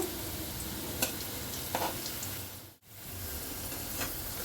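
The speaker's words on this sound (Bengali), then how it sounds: "আমি এখন এর মধ্যে একটা আগে শুকনো লঙ্কা ফোড়ন দিয়ে দেব" Dried red chilies sizzle as a tempering in hot oil in a pan with potatoes, a close steady crackling fry with a few sharp utensil clicks and a brief dip in sound.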